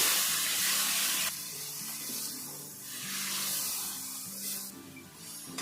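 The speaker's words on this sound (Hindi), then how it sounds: "थोड़ा सा इसमें पानी डालेंगे।" A rushing hiss of water poured into a pot of mutton karahi with garlic, starting loud and easing, over sizzling, with soft background music underneath.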